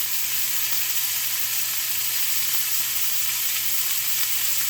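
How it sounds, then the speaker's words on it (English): A beef chuck steak searing in a hot pan gives off a loud, dense, unbroken sizzle that stays even from start to finish, with no voices. "So just let it sear out"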